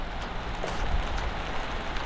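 Heavy rain pours down steadily, a dense broadband hiss of drops drumming on surfaces close by, continuous for the whole stretch.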